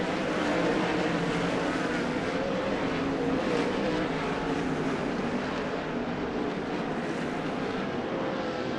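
Several 360 sprint cars race down the back straightaway at Skagit Speedway, a loud, steady, continuous engine roar with a broad rumbling drone that holds level throughout, no voices over it.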